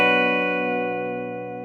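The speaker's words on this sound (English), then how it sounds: "And the bridge pickup sounds like this." A vintage Fender Jazzmaster electric guitar on its bridge pickup rings out one strummed chord that slowly decays over under two seconds, bright and close, with no voices over it.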